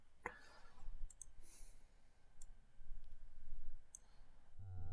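Sharp mouse clicks pick colours on a colour wheel in the VDMX video software, a few crisp isolated taps spread over a quiet background.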